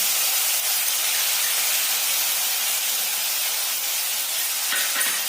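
Green chillies frying in hot oil produce a steady, bright, even sizzle that holds at a constant level throughout with no talk.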